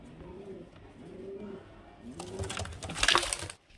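Fulshira pigeons coo softly in repeated low murmurs, then a burst of flapping and bright clattering noise rises before fading out.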